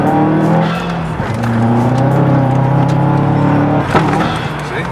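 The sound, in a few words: car doing a burnout, tires squealing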